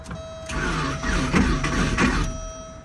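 A broken Porsche engine cranks and sputters as it tries to start, a steady loud mechanical churning with uneven surges throughout, alone with no talk.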